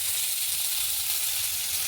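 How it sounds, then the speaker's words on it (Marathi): Chopped onion sizzles steadily in hot oil in a kadhai, a dense, even frying hiss held close and constant with no gaps throughout. "आता कढईमध्ये कांदा टाकून थोडंसं चांगला परतून घ्यायचा आहे."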